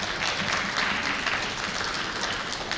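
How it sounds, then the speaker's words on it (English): Parents and families applaud at an elementary school spring band concert, a steady crowd clapping that fills the room and carries on throughout without talk. "Why don't we give our parents and families a round of applause?"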